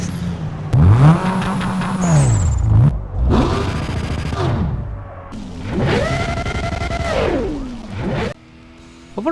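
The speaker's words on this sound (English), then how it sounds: "The car sounds are great, although the game reuses engine sounds for some cars." Engines in the racing video game Need For Speed Most Wanted rev hard several times in succession, each loud burst climbing and falling in pitch with distinct gear-like steps, ending with a quieter idle.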